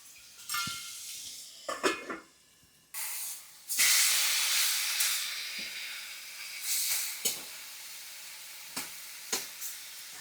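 Chicken breast tikka pieces fry under a lid in a pan over a low flame, giving bursts of loud sizzling and hissing that rise and fade with quieter crackling gaps between them, and no voices.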